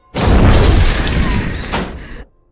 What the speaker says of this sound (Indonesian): Ning memasukkan beberapa botol gas ke dalam oven dan membiarkannya meledak